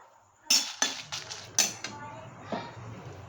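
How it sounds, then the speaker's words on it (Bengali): Dried red chillies land in a metal pan to dry-fry spices for mango pickle, giving several sharp clinks and rattles over quiet background hiss. "প্রথমেই কিছু শুকনো লঙ্কা দিয়ে নিচ্ছি আমি"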